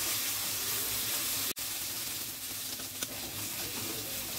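A paste of ginger, garlic and green chili fries with browned onion in a pan under light oil, giving a moderate, even sizzle with a brief sharp dropout midway and faint stirring clinks.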